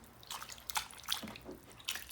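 Raw goat tripe being rubbed and washed by hand in water, with soft wet drips, squishes and sloshing in irregular close bursts, fairly quiet and without speech.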